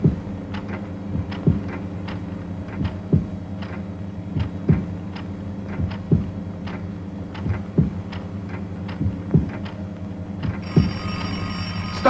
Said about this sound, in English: Stop that phone, Green!